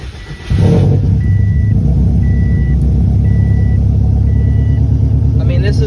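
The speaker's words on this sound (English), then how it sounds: "But I'm ready for a cold start, so let's turn this on." Subaru WRX engine on a Speeduino standalone ECU cold-starting in neutral: a sudden loud crank-and-catch, then a steady, rough idle with deep low rumble. A repeating electronic beep sounds four times over the running engine.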